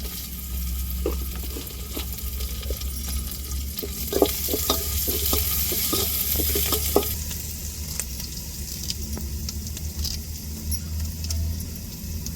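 Sun-dried vathal fries in hot oil for a tempering, a close, steady sizzle punctuated by a run of sharp crackles and pops that later settle into a softer, even fry.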